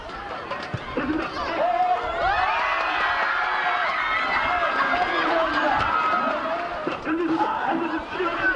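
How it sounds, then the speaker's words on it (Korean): Children shout and cheer loudly across a school playground during a high-school soccer match in Bucheon, a lively crowd of overlapping young voices and whoops rising after the first second and staying strong throughout. "아이들의 웃음과 함성 소리로 학교 전체가 들썩입니다"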